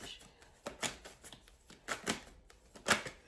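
A deck of tarot cards is shuffled by hand in a series of quick riffling bursts, close and fairly loud, with short pauses between them.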